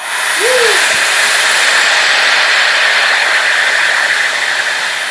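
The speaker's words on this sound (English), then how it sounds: "Hair dryer, on warm, on high." A hair dryer blows continuously at full power, a loud, steady rushing hiss that holds unchanged for several seconds.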